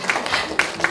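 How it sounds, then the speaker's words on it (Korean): Brief applause at a poetry book launch as the poet's family comes up on stage, scattered claps close by with voices talking over it. "박수 한번 주세요."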